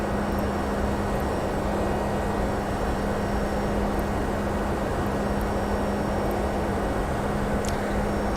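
A Boeing 757 freighter cruising in X-Plane 11 on a cargo run from Stansted to Vienna, heard as a steady, loud, unbroken drone of engine and airflow noise with a low hum beneath, constant throughout with no talk.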